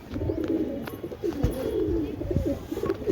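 Pigeons coo repeatedly in low, throaty bursts, fairly close, with soft rustling and other birds faintly in the background.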